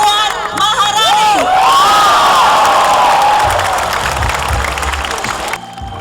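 A large audience at a live on-stage talk show event in Jember cheers, whoops and applauds loudly for a government minister coming on stage, with shrill shouts over a dense roar of clapping that fades out at the end.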